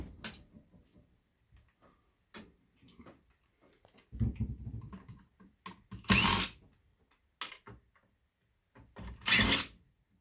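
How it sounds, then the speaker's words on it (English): A power drill backs screws out of a computer monitor's circuit board in several short whirring bursts of varying length, separated by quiet gaps and small clicks. "let's get the rest of these screws out so we can get this circuit board off"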